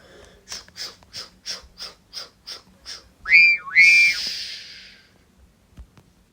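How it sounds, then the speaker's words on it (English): A train guard's whistle at a station sounds as two short, shrill blasts, following a run of soft, regular puffing beats like a small steam engine. "the guard blew his whistle, and Thomas trudged away."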